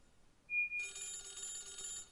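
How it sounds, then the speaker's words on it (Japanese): Telephone ringing in the video game Shikiyoku: a short electronic tone, then a steady, bright trilling ring that sustains alone and fairly clear for over a second. "で、電話だよ、お兄ちゃん。"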